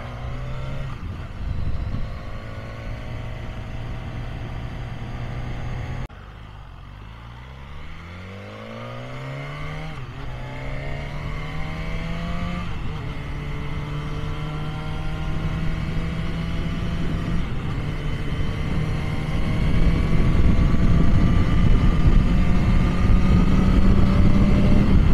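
A 2020 BMW S1000 R motorcycle engine under way, loud and close, its pitch climbing through repeated gear changes with a brief drop near six seconds, then pulling steadily higher with rising wind roar and no talk.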